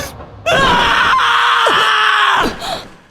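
Eren from Attack on Titan wakes from a dream screaming, one loud, sustained, strained cry of about two seconds that ends in a gasping trail-off.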